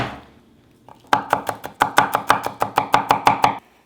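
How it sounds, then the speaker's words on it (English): Garlic cloves for a Korean potato dumpling soup are crushed on a kitchen board, about a dozen sharp rhythmic knocks in quick succession after a brief quiet start, close and alone. "And 2 cloves of garlic. Let's crush together."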